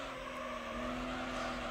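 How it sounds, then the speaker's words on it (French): Sustained tyre skid squeal from the PS2 racing game Gran Turismo 4 Prologue, a steady, continuous whining tone that runs unbroken for nearly two seconds over a constant engine drone. "Voilà, c'est le bruit des dérapages"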